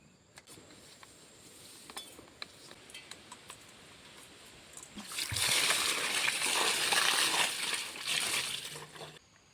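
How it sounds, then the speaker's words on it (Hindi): Outdoors beside a small river, a spray pump is washed with river water: faint ticks and clinks at first, then a loud, rushing splash of water that runs for several seconds before easing off. "यहाँ पर पंप को सही तरह से धोया जा रहा है।"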